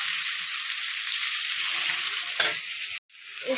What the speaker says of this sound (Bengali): এবার এর মধ্যে এঁচড়টা দিয়ে একটু ভাজা ভাজা মতো করব